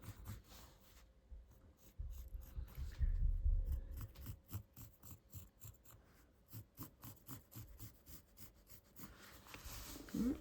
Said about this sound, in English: go around with a pencil.